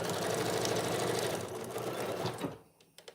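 A Bernina sewing machine stitching quilted oven mitts: a fast, steady mechanical whir and patter close up, running continuously before slowing and stopping near the end, followed by a couple of small clicks, with no talk.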